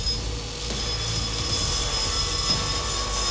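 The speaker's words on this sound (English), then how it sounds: "Using the 2-inch contact wheel, I grind the lightsaber handle overlay to shape." A belt grinder with a 2-inch contact wheel grinds a lightsaber handle overlay to shape, giving a steady, loud, continuous abrasive whine with a high tone that does not let up.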